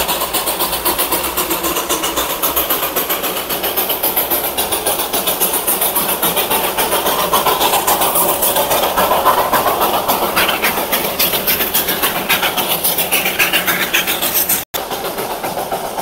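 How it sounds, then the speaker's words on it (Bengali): The Darjeeling toy train rumbles past at Batasia Loop with a steady, loud, close engine roar and clattering carriages throughout, then a brief dropout near the end. "টয় ট্রেনটি চলে গেল।"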